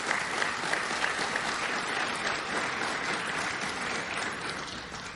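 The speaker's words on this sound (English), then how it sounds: "Let's give them a round of applause" A crowd applauds steadily at a governor's bill signing on enforcement against drivers using handheld devices, with dense, continuous clapping at an even loudness throughout and no talk over it.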